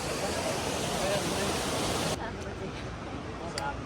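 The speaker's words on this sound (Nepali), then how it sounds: "रुप्चेको झरना" Rupse waterfall beside the Pokhara–Mustang road in Nepal roars as a loud, steady broadband rush, then drops sharply in level and becomes a softer, more distant wash for the remaining seconds.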